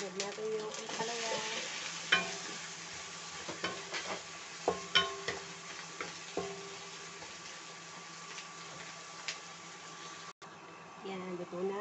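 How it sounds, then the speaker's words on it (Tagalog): Bitter gourd (ampalaya) sautéing in a pan with crab paste, a continuous soft sizzle broken by repeated scraping and tapping strokes of a spatula, with brief talk in the background. "And then, sinag natin yung ampalaya."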